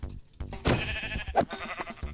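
Sheep in the Minecraft video game bleat twice, a longer wavering bleat followed by a shorter one, close and clear over soft game background sounds, with no talking.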